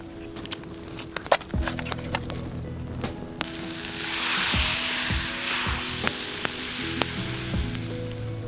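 Butter in a pan over a camp stove, with a soft sizzle that swells toward the middle, amid scattered clinks and knocks from handling cookware.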